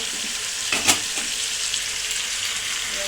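Meat frying in a hot pan gives a steady loud sizzle, with a brief sharper hiss and splutter as hot water is poured in near the start.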